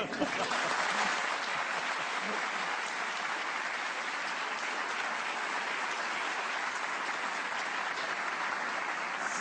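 An audience at a Turkish talk show applauds in a steady, dense wash of clapping that carries on for several seconds at moderate distance.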